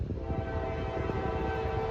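A Norfolk Southern southbound freight train, number 241, led by C6M locomotives, rumbles steadily past with sustained low engine drone and a continuous tonal hum, close and constant throughout with no talking.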